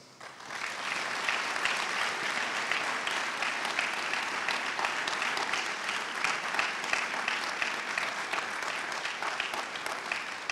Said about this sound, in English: Please give our 2025 Hall of Fame inductees a big round of applause.